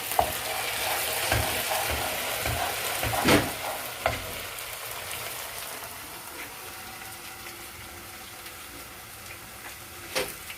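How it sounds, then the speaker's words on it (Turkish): A spoon stirs a pot of sour meatball soup simmering on the stove, with a soft continuous bubbling hiss and a few light scraping knocks near the start and end. "Ocağımızı da bu arada bir karıştıralım."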